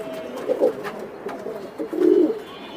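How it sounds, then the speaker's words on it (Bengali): Healthy pigeons kept in cages at a seller's loft coo close by in soft repeated rolling bursts, a louder cluster near the end, with no talk over them. "আজকে সুস্থ সবল কবুতর দেখাচ্ছি প্রত্যেকটা"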